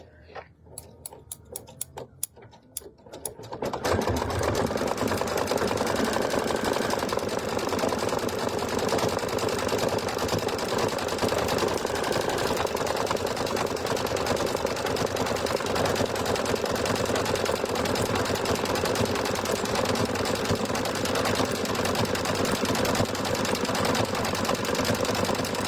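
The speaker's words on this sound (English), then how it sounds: "So, okay, we're gonna do the decorative stitch." Sewing machine stitching a decorative pattern: a few slow separate clicks as it starts, then a loud, steady, fast mechanical whir that runs without a break for over twenty seconds, with no talking over it.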